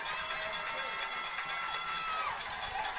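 A Red Lion high school football crowd cheers in a continuous roar, a steady wash of voices and whistles spread across the stands, held at a constant level.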